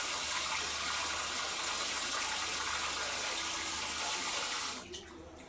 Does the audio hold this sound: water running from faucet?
yes